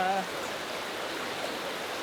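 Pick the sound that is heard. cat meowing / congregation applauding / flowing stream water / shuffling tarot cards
flowing stream water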